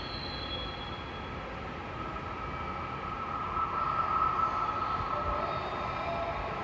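A Nishi-Kyushu Shinkansen Kamome train at a station platform gives a steady rolling rumble with a thin wheel squeal that swells midway, heard fairly quietly and without voices.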